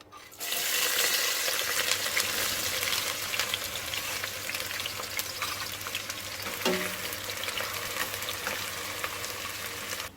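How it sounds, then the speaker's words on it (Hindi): Bay leaf dropped into half a cup of hot oil for a dhaba-style red lentil dal, giving a loud, steady sizzle and crackle that carries on throughout. "आधा कप ऑयल डाला है, तेज पत्ता डाल देंगे इसमें।"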